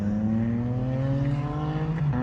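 A loud motorcycle engine drones steadily close by, its pitch slowly rising as the bike passes, with a slight shift in tone near the end.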